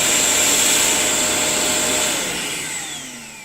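Vacmaster VQ1220PFC 1250W 20-litre wet and dry vacuum cleaner running, a loud, close, whining motor roar with a high steady tone that begins to wind down near the end.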